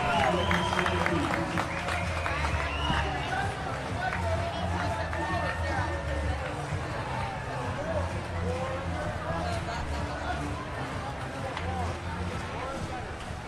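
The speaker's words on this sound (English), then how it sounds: "That is a set win for the Seahawks, and it's 1-1 as this home side crowd goes crazy." A home crowd at a girls' varsity high school volleyball match roars and cheers after a set win, a loud, sustained mass of shouting and clapping with a commentator talking over it.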